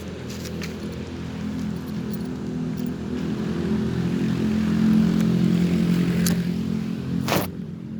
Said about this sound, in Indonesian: Itu motor saya ya